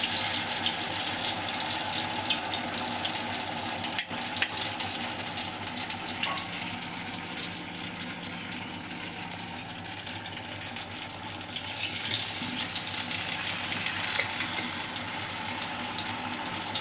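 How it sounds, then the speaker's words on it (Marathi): Chij (cheese) balls frying lightly in hot oil in a pan, a steady dense sizzle and hiss that runs continuously throughout at moderate level, with no talking. "भाजून द्यायचं हलकं म्हणजे मग कुडकुडीत चांगलं होतील."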